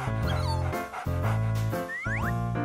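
Cartoon puppy yipping and whimpering in a few short high bursts over a loud backing score, with rising squeaky whines near the end.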